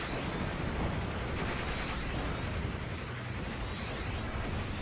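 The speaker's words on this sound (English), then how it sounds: "And we also see a Vielfachwerfer hitting this area." Vielfachwerfer rocket barrage exploding across an area in the WWII strategy game Steel Division: Normandy 44, a dense continuous roar of overlapping blasts and rumble, loud and unbroken for several seconds.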